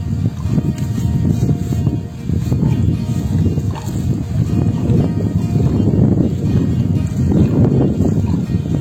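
A hand-operated water pump, part of a wind-powered pump setup, works steadily, with water gushing and sloshing in a dense, continuous, fairly loud rumble that rises toward the end.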